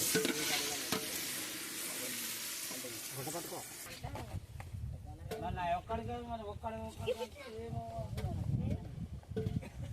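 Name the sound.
stirring cooking biryani in a pot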